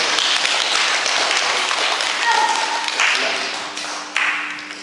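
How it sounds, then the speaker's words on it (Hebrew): Applause from a group of children at a 2012 kids' karate seminar, a dense steady patter of clapping that carries on for several seconds and gradually thins out toward the end. "מחיאות כפיים לא לי, לא לי"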